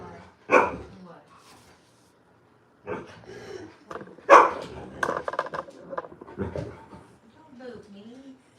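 A pet dog at a family gathering lets out a few sharp barks and yips in short bursts, close to the microphone, mixed in with people talking.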